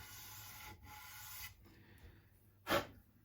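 Sandpaper rubs a nut on a PRS Bernie Marsden SE guitar in steady strokes for about a second and a half, then eases into lighter scraping before one short, louder stroke near the end.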